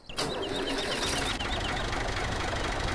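A classic tractor in a farming video game mod starts up, with a sharp crank followed by a low, steady idling rumble. A string of chirping, birdlike tones runs over the engine early on. No talk.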